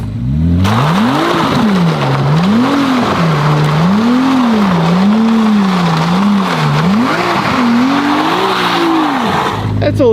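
New Ferrari 296 GTB engine revving and accelerating: a loud, continuous engine note rising and falling in repeated sweeping waves close by, with a sharp cutoff at the end.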